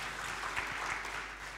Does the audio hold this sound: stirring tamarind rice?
no